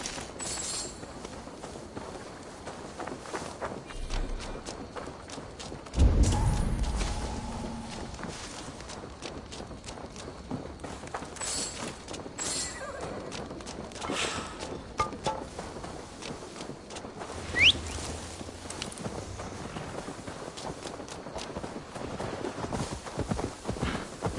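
Horse hooves clip-clop steadily in Assassin's Creed Valhalla, a long walking-pace run of hoofbeats in a Viking-era game world, with a couple of louder thumps partway through and no talking.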